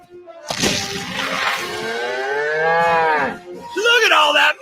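A cow moos as a sound effect in a radio advert, one long drawn-out low moo running nearly four seconds, loud and close, followed by a brief brighter burst.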